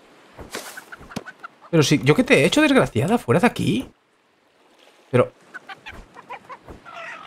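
A hen in the survival game Breakwaters clucks and squawks in short agitated bursts, loud and close, alternating with someone talking over and between the calls.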